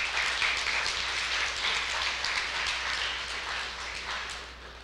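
A room full of people applauds faculty at an annual Hall of Fame reception, a dense, even wash of clapping that holds steady for several seconds before easing off slightly.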